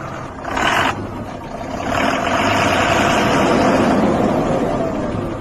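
A passenger vehicle carrying a group to a small wedding pulls away, its engine running as a steady low rumble that swells and holds loud and close, with brief higher whooshes early on and no talk.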